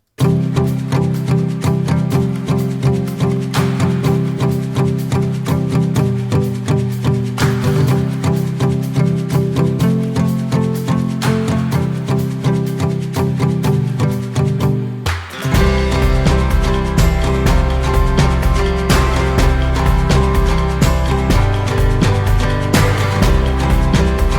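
Upbeat, polished background music track with steady rhythmic pulse and layered instruments, shifting to a fuller, bass-heavier section midway.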